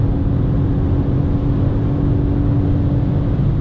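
A 2003 Mercedes C240 W203 cruising at high speed, its steady low exhaust drone and engine hum heard from inside the cabin, constant and loud with no talk over it.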